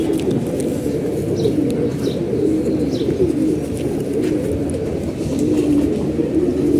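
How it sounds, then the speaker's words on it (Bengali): Several pigeons coo close by in a steady, low, murmuring chorus, with faint higher chirps scattered above it and no voices. "বাবু কবুতর"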